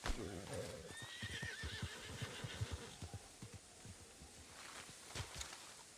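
A horse whinnies loudly near the start in a video game, then hooves clip-clop in a steady rhythm, with a voice talking over the sounds.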